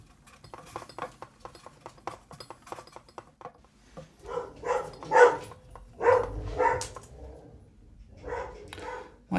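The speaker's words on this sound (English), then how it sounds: "My dog's barking, that would be the postman." Dog barking indoors in a workshop where a Gibson Les Paul Studio guitar is having its frets levelled, with several short barks in bursts at moderate distance after a stretch of clinking, tapping work sounds.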